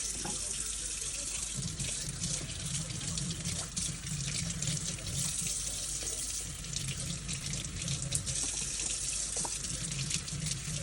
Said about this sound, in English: Now I'm going to wash the other onion, the white onion, which I took the skins off, and the celery.